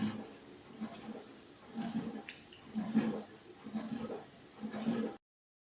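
Water poured slowly and stirred into a homemade dishwash liquid mix, giving soft repeated sloshing and trickling swirls at a steady rhythm, faint and close, with no talk over it.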